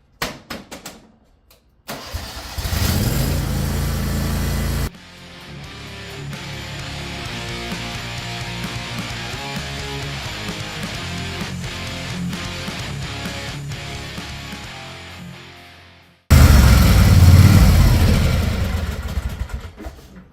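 Exmark Staris E Series lawn mower engine cranks and starts, then runs at a steady mid-pitched idle for several seconds before revving louder near the end, close and alone.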